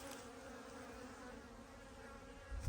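Honey bees buzzing at a beehive, a steady continuous drone with a slightly louder rustle at the very end, no voices.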